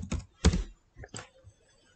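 Computer keyboard typing in a quiet room, a handful of crisp close keystrokes in a quick uneven burst, then a pause and a couple more taps.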